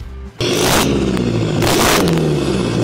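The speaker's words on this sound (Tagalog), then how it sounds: "Narinig mo naman yung exhaust boss." A car engine revs hard during an exhaust sound check: a short idle, then a loud, close roar rising and falling through repeated throttle blips, with the exhaust note dominating and no talk.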